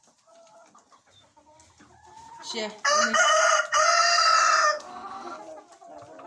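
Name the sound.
rooster crowing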